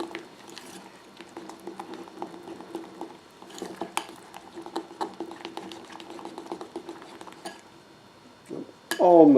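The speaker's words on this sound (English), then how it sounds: "I added another teaspoon and I'm just stirring away" Royal icing is stirred in a bowl with a spoon, giving soft repeated scraping and tapping strokes at close range, followed by a brief louder clatter at the end.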